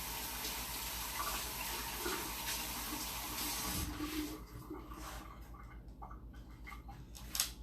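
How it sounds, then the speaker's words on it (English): Hands rinsed under a running kitchen tap, a steady close hiss of flowing water that thins out toward the end with a few splashes and clinks. "And rinse my hands off."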